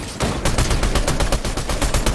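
Rapid repeated gunfire in the video game Fortnite, a dense run of loud, closely spaced shots with no pauses across the whole stretch.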